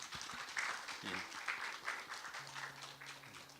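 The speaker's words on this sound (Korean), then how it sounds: "우리 박수로 환영합시다" A church congregation claps in welcome during a Sunday worship service, moderate clapping heard faintly with a voice speaking over it.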